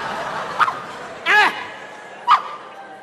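A dog gives three short yips or barks, spaced apart and fairly close, with faint voices and comic chatter around them.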